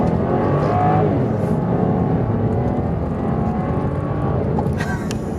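A BMW 740Li (F02) with the N54 engine and ZF 6HP30 gearbox, in manual Sport Plus mode, pulls hard under acceleration, a loud, steady engine drone that holds for the whole stretch from inside the cabin.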